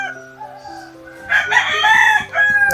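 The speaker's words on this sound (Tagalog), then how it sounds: "Nauna yung manok sa loob" A rooster crows inside an old house where many chickens are kept, a loud harmonic call rising mid-clip over a softer earlier cluck, with faint low background sounds and no speech.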